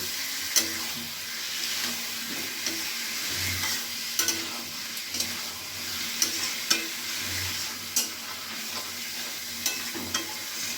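Spiced masala and chopped tomato frying in a pan, a continuous soft sizzle broken by regular spatula scrapes and stirring knocks, close and moderately quiet, with no voices.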